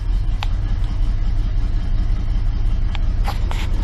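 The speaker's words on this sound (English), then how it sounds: "This old big block runs awesome." An old big block car engine idling, a loud steady low rumble running throughout with a few brief clicks and rattles over it, and no talking.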